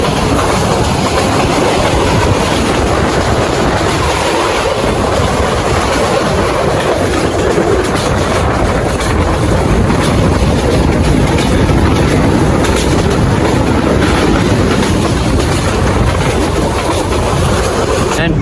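A passenger train runs steadily inside an air-conditioned coach, with continuous loud rumble and clickety-clack of wheels over rails throughout, plus faint voices in the carriage.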